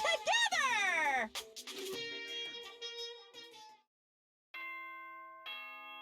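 An announcement chime from the video game Danganronpa: Trigger Happy Havoc rings out as a series of bright, electronic bell tones, loud and up front. A voice talks over the opening, the tones fade into a brief silence, and then they return.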